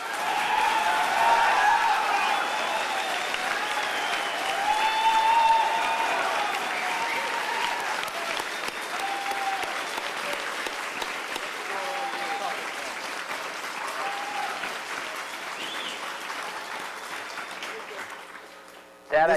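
An audience applauds steadily and loudly for nearly twenty seconds, a dense wash of clapping that slowly tapers off near the end.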